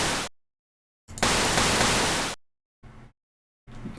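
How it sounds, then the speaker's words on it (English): Synthesized pink noise from a sound-effect generator, played as separate bursts: a short one, a long steady hiss of a little over a second, then two faint brief blips, with silence between them and no talking. "maybe you work with pink noise instead of white noise"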